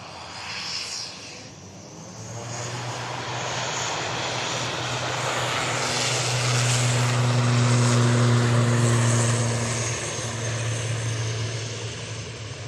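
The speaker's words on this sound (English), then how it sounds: "Going to catch the SAS just as it touches down" SAS airliner touching down at Manchester Airport, its engine roar swelling to a loud peak with strong low tonal hums mid-clip and then easing off, distant to moderately near, with no talking.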